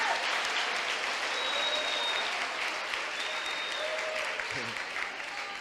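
A church congregation applauding together during a worship service, a steady, dense wash of clapping that fills the room and holds evenly throughout, with a faint voice and tones underneath.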